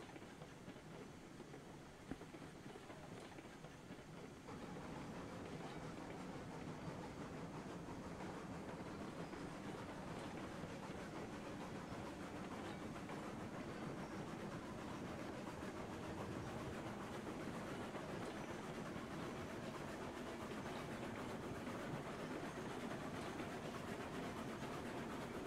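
Freight cars rolling along rails in Railroads Online, a steady rumbling clatter of wheels on track that holds constant and moderately close throughout, with no voices.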